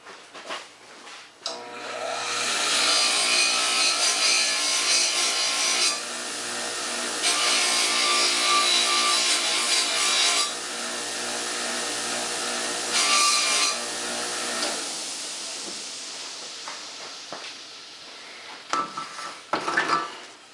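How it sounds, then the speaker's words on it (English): Wire wheel scrubbing carbon off an outboard motor shift rod from a classic OMC gearcase: a loud, close, sustained abrasive whir in several long passes, broken by short pauses and ending with a few light clatters. "bring this guy over to my wire wheel, take this carbon off of here"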